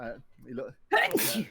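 A person sneezes loudly and close by, one sharp burst after a short stretch of nearby talking.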